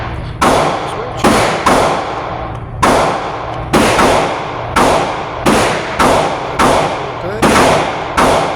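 Nine sharp, loud gunshots from a Hi-Point C9 Gen 1 fixed-barrel 9mm pistol fired on a range, spaced unevenly about half a second to a second apart, each shot followed by a short echoing decay.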